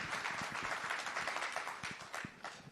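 Audience applause at a business summit, a steady wash of many hands clapping from a lively crowd, fairly faint and continuous throughout.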